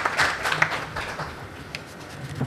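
Brief applause from an audience at a literary forum gathering in Lahore. A burst of claps at the start quickly thins out and fades into quiet room noise.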